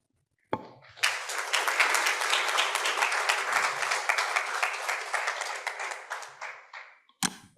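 A conference audience at a bankers' club breakfast applauds its panelists with sustained, dense clapping that swells quickly, holds steady for several seconds and then fades, ending with a brief final burst.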